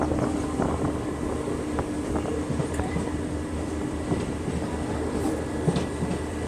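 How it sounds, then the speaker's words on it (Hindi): Diesel multiple unit engine rumbling steadily from inside a coach right behind the front power car, a continuous low drone with faint rail clatter and brief voice fragments over it. "पूरा साउंड आ रहा है यहाँ पर DMU इंजन का।"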